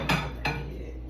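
A plate is taken out for bacon: two sharp ceramic clinks a moment apart, close in a kitchen, followed by a low steady hum.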